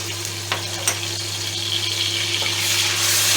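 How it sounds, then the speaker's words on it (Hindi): Two tablespoons of garlic-ginger paste hitting half a cup of hot oil in a pan, a loud continuous sizzle and crackle with a few sharp spits, building steadily and heard alone without talk. "इसके बाद मैंने इसी पैन के अंदर 1/2 कप ऑयल लिया है। इसके अंदर हम ये 2 टेबलस्पून लहसुन अदरक का पेस्ट शामिल करेंगे।"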